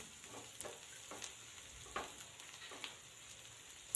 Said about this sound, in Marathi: कांदा आपल्याला ट्रान्सपरंट होईल इथपर्यंतच परतून घ्यायचा आहे